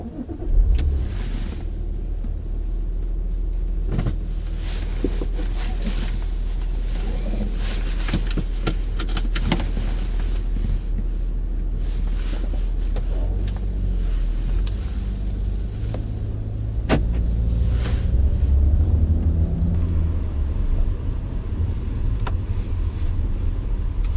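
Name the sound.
Porsche Macan SUV driving on the road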